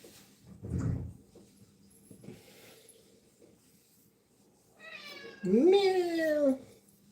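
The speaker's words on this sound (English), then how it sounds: "Meow." A domestic cat meows indoors in a kitchen: a short call, then a longer, louder rising-and-falling meow near the end, after a soft thump and quiet background.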